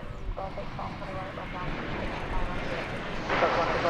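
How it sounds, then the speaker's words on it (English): An American Airlines Airbus A321 in Stand Up to Cancer livery, arriving at DFW Airport from Los Angeles, produces a continuous rushing jet rumble that grows a little louder toward the end, with a voice speaking over it. "Here comes the stand-up to cancer livery, American Airlines. It's an Airbus A321 coming in from Los Angeles."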